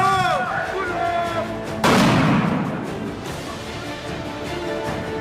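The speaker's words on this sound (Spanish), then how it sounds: "¡Va a existir una explosión!" A sudden loud blast erupts amid a noisy outdoor scene, its broad roar trailing off over a couple of seconds into background rumble and distant commotion.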